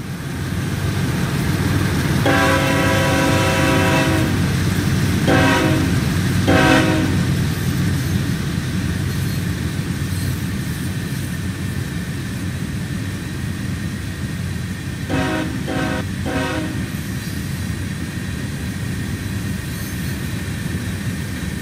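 Union Pacific freight train rolling through the Train Simulator game, a steady loud rumble underneath as the horn sounds in several blasts, a long one followed by two shorter, then a quick triple burst later on.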